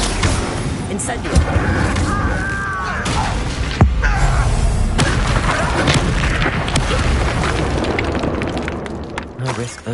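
A burst of flame from the Incendio fire spell in Hogwarts Legacy, heard as loud booming blasts and crackling fire over a dense battle soundscape, with voices talking in the mix.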